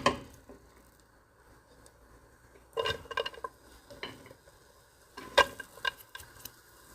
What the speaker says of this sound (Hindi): अब ये जो बॉईल किए हुए चावल हैं ये हम सबसे पहले डालेंगे।